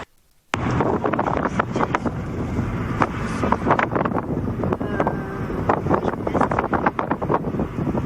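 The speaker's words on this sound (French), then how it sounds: "Parce qu'il y a juste un peu de vent là." Strong wind buffets the microphone in a steady, loud roar with gusty bursts, starting abruptly after a brief silence and continuing throughout.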